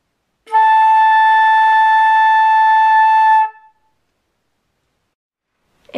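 A flute plays a single sustained A in the second octave, a clear bright tone held steadily for about three seconds and then stopping cleanly, with silence after it.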